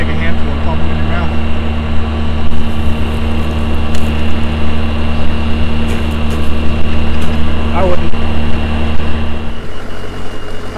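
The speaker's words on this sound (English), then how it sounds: "I went with the older tractor instead of our nice orchard cab tractor" Older orchard tractor without a cab runs steadily while seeding a cover crop between orchard rows, a loud continuous diesel drone with a low rumble throughout, with someone talking briefly over it.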